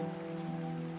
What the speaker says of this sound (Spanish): al igual que esta lluvia que hoy cae sobre mi bendecida Fátima